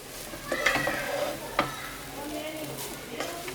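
A wooden spoon stirs cauliflower fried rice in a pan, giving a soft, continuous scraping and gentle sizzle with a few brighter scrapes along the way, heard up close and without any talking.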